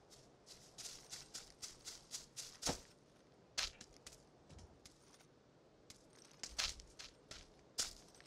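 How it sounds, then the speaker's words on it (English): A player character's footsteps in the video game PUBG, a regular run of soft thuds with bright crunchy tops, pausing and then resuming as scattered steps, fairly faint and without talk. "my footstep movement, it sounds like I'm bumping against a speaker"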